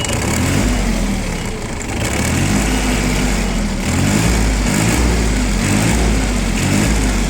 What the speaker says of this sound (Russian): давайте нажмем немного на педаль газа, посмотрим, как двигатель отзывается